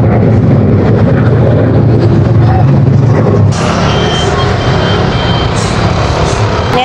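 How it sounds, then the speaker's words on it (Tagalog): A garbage truck reversing on a city street in the Recto Divisoria area of Manila, its engine rumbling loudly and close under a steady backup alarm, with busy street noise around it. "nandiyan na yung truck para pagkargahan ng basura"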